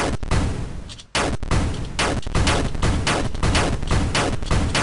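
Rapid, loud cannon-like shots from a tank in a homemade video game, firing in a dense repeating rhythm of bursts with one short pause, with no talking.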